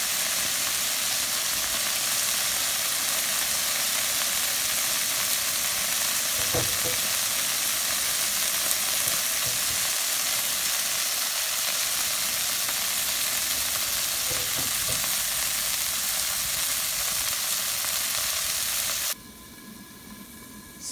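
Cajun shrimp skewers sizzle in a skillet with a loud, steady, close frying hiss, a few faint clinks as more skewers go in, and the sizzle drops away abruptly near the end.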